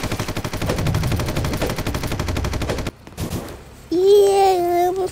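Rapid automatic gunfire from a first-person shooter game rattles loudly and continuously for about three seconds. Sustained electronic tones follow, with no one talking over it.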